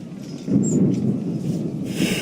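Thunderstorm at sea in Assassin's Creed III, with a steady low rumble of thunder and wind-driven rain carrying on throughout, swelling louder after a brief quieter opening and staying strong, with no voices.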